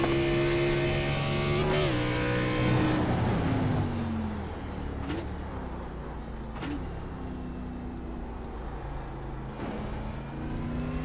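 A race car engine on the COTA track revs and accelerates with a steady droning tone, pitch dipping and climbing through gear changes, loud and continuous throughout.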